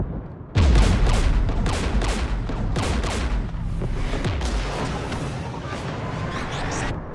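Combat gunfire in Mass Effect 3, loud, dense volleys of rapid shots and heavy booms in repeated bursts, sustained and close throughout.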